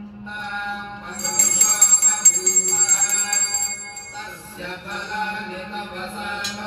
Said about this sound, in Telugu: అమ్మవారికి ఘంటానాదం చేస్తున్నాను